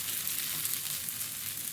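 Jowar-flour dosa sizzling and frying steadily on a flat griddle, a continuous close hiss with faint crackle and no talking.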